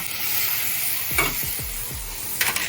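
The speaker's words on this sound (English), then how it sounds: "We're gonna go ahead and add our tomato sauce" Tomato sauce hitting a hot pan of sweated onions for sopita, a steady sizzle with a few scraping, stirring clicks near the end, close and fairly loud, no talking.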